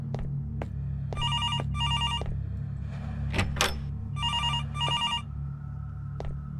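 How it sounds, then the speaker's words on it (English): In the horror video game Araya, a telephone rings with its bell in two short repeated bursts, twice, over a steady low ambient drone, with a few sharp clicks and thuds. "I hear a phone. I hear a phone."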